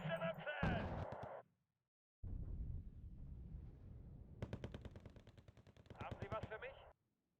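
Bombardment in Wargame: Red Dragon: bursts of rapid gunfire and rumbling shots start and stop abruptly, with quick rattling volleys near the end, heard loud and close.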